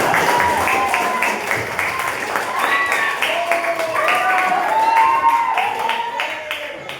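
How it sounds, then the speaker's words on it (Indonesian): A school class applauds during a geography lesson on the geosphere. Rapid, moderate clapping from the students runs throughout, mixed with overlapping voices and chatter. "tepuk tangannya lagi untuk kelas"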